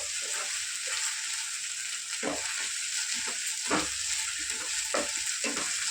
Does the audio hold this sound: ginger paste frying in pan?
yes